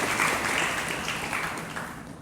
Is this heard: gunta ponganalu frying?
no